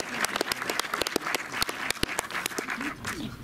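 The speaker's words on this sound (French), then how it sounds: "Je propose que vous fassiez un tonnerre d'applaudissements" An audience at a film screening and discussion in a Montreuil cinema claps, a thinner crowd with distinct, closely spaced hand claps and some voices murmuring underneath.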